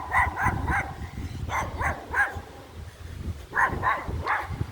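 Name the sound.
small dog barking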